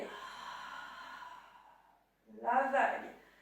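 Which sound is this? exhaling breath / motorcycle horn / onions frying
exhaling breath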